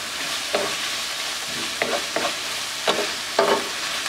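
A pasta dish with basil and oregano being stirred in a sizzling pan, with several scraping strokes of the utensil over a steady close frying hiss, no talk.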